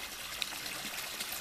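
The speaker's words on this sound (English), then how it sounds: "I'm just going to fill this water up to there." Water pours into an emergency water supply container treated with algicide, a faint, steady trickling stream with no voices.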